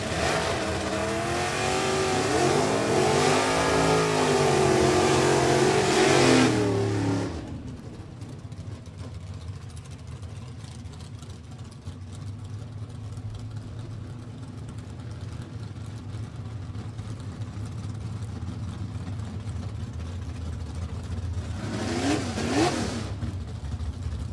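Drag racing cars at New England Dragway during an NHRA event roar loudly as they rev and accelerate for several seconds, then a lower, steadier engine rumble lingers before another brief rising whine near the end.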